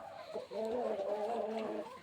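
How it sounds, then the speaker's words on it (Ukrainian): Livenskaya chintz rooster giving a sustained, tonal call close by, one drawn-out vocalization lasting well over a second with little else around it. "Це цей півник лівенської сецової."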